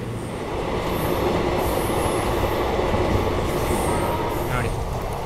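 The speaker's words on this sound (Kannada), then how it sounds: "ಇವಾಗ ಬ್ರೇಕ್ ಹಾಕಿ ನಿಲ್ಲಿಸ್ತಿದ್ದಾನೆ." Heard from inside, a passenger train on the SMVT Bengaluru–Mysuru route, hauled by a WAP-7 locomotive, brakes toward a stop. A steady, close rumble of the carriage runs throughout, with thin wheel squeals rising faintly above it.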